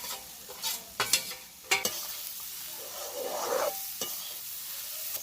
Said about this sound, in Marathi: हे सर्व मिश्रण चांगलं मिक्स करून घ्यायचं आहे